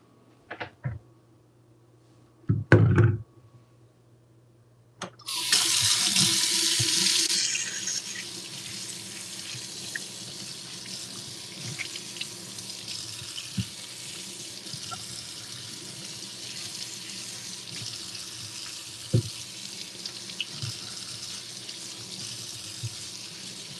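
Zucchini are washed under a running kitchen tap: a few handling knocks, then water gushes on loudly and keeps streaming steadily into the sink with occasional splashes and clunks.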